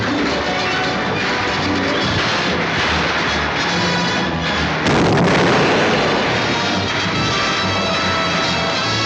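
Dense battle gunfire and artillery-like booms from a 1940 film Santa Fe Trail battle scene, a continuous loud barrage that grows heavier halfway through, with no clear voices.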